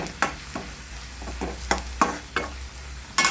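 Red chili masala is stirred into onion and garlic frying in a pan: about eight sharp scraping strokes rise over a low, steady sizzle, close up, with no talking.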